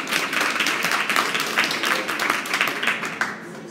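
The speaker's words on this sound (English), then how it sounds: "So if you can give a round of applause for Tandeka the Poet." Audience applauding a poet at a live poetry event, dense continuous clapping from a crowd, fairly loud and steady for a few seconds.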